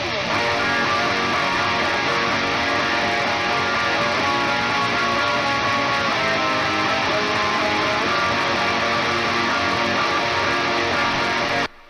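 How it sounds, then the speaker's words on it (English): Rhythm guitar tracks played back from a multitrack recording session, a dense, sustained wall of guitar that runs steadily and loud from start to finish with no talking. "Then we got the rhythm guitars here."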